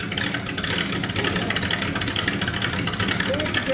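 The engine of a 1970 Buick Electra runs steadily at idle with a throaty, continuous rumble, close by, while people talk over it.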